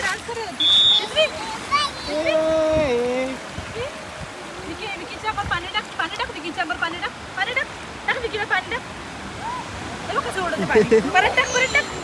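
Water rushes and splashes continuously at a Goa beach while a child squeals and people talk and laugh over it.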